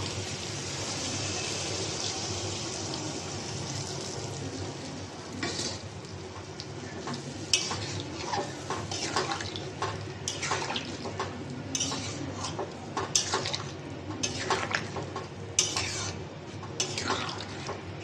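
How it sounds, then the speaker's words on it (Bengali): Beaten spice paste frying in a pan for a paneer dish, a constant sizzling hiss broken by repeated scraping and stirring strokes of a spoon against the metal, close and fairly loud. "এবার আমি ফেটে রাখা বাকি মশলাটা দিয়ে দেবো।"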